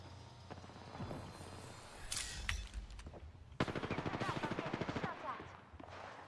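Video game gunfire rattles in bursts, with scattered shots, then a loud sustained automatic volley, close and punchy over a rumbling background, with a voice talking briefly.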